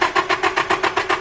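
A Nissan SR20 car engine cranking, a rapid even chugging of the starter turning the engine over, close and loud, about seven beats across a short burst with no voices.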